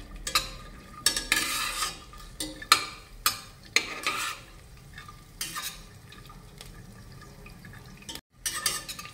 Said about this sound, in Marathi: आता ह्या मिरची सोबत शेंगदाणे, काजू आणि बदाम छान असं परतून घेऊयात।